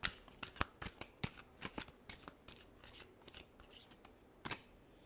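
Tarot cards are shuffled by hand up close, producing a quick series of sharp riffling slaps and flicks at an irregular rhythm, faint and alone.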